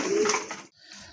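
A pair of racer pigeons gives a short, close coo, loud and warbling for about half a second before it breaks off, followed by fainter rustling.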